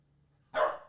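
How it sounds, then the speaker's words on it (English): A dog gives one sharp bark after a near-silent stretch, loud and close, with no talk over it. "She's barking."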